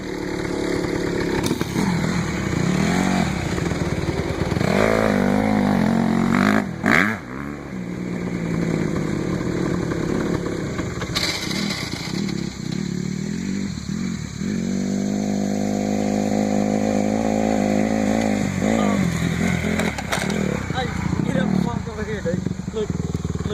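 Motorcycles and four-wheelers riding nearby, engines droning and revving up and down through the whole stretch, with people talking over the noise.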